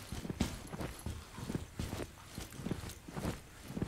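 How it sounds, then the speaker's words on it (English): Steady rhythmic footsteps in the tactical shooter Ground Branch, a series of soft regular thuds that sound somewhat muffled and distant, like boots moving on a nearby floor. "Cause I hear distinct footsteps."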